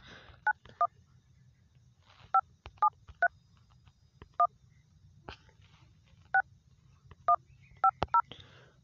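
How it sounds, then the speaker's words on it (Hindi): Telephone keypad tones beep one after another as a call-forwarding code is dialed on a Jio mobile number, a dozen short clear tones spaced irregularly over a quiet background. "जियो नंबर पे तो मैं डायल कर देता हूँ"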